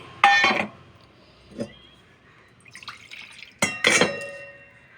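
Two cups of water poured into a bowl with a cup, two short splashy bursts of pouring separated by a quiet gap and faint clinks, close by and without speech.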